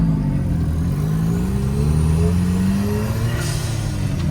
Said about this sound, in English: That turbo sound.